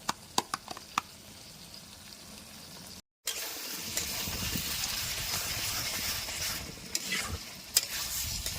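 Mutton kosha sizzles steadily in a pan as it is stirred and fried, with a few sharp scraping clicks at first, a brief break, then a continuous close, bright frying hiss.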